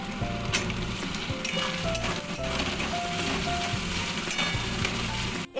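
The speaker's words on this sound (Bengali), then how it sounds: "এবার আমি টমেটো কুচিটা দিয়ে দেবো।" Chopped tomato frying in a pan with onion paste, a loud continuous sizzle layered with stirring scrapes and rattles, close-up and unbroken until a brief pause near the end.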